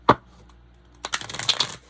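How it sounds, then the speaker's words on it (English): Tarot cards are shuffled close up: a single snap, a pause, then a quick run of riffling clicks and flicks. "I feel the need to shuffle these cards even though I shuffled them off camera."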